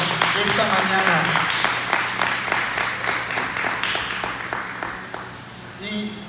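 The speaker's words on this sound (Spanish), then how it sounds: "Dale un fuerte aplauso en alabanza y adoración esta mañana." A church congregation applauds in praise during a Sunday morning service, with dense clapping that starts strong and gradually fades, and a voice speaking over the applause.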